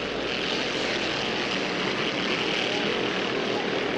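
280 class hydroplane racing boats with stock gasoline engines on single two-barrel carburetors, a dense, continuous roaring buzz at a regatta, loud and unbroken with commentary faintly over it.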